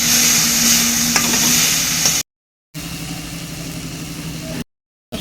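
Spice masala of cumin, coriander, Kashmiri chilli and turmeric powders frying in a pan, a loud continuous sizzle broken by two short silent cuts.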